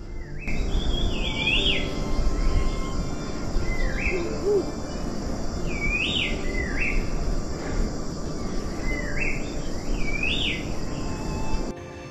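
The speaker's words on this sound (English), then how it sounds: "Can I hear the birds singing?" Birds sing along a humid monsoon trek to Annapurna Base Camp in Nepal, giving repeated clear whistled calls at steady intervals over a constant drone of insects.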